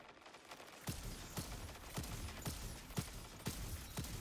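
Prophet Trials scout rifle firing in a video game, a steady run of loud, sharp single shots spaced about half a second apart over a dense background of game ambience.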